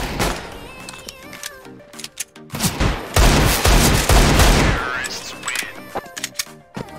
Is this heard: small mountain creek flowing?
no